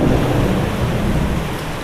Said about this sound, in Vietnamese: Mưa rất là to luôn.